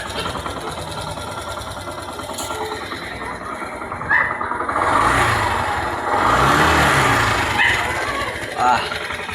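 A Yamaha YTX 125 motorcycle engine runs after a tune-up, a steady mechanical idle with rattling valve clatter that swells in two short rev blips near the middle and end.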